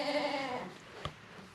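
Young goat kids bleat on a farm: a wavering, drawn-out cry fades over the first half second, then a short sharp bleat or call follows, with faint background noise.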